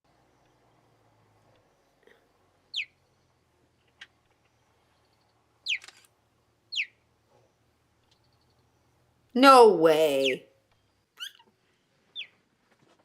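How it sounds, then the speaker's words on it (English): A cheetah gives short, high, bird-like chirps spaced apart over about thirteen seconds, with one longer louder burst near the middle that includes a brief spoken exclamation; otherwise the setting is quiet. "This is a cheetah just sounding exactly like a bird."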